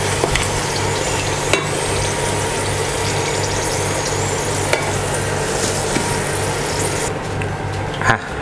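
Meatballs deep frying in oil in a pan, a steady dense sizzle and bubbling that runs throughout at close range, with a low hum beneath and a few light clinks.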